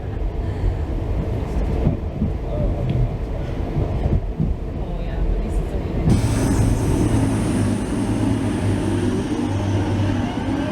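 A Northern passenger train bound for Manchester Airport pulls away, a steady low rumble of running gear heard from inside, growing fuller and brighter partway through, with no talking.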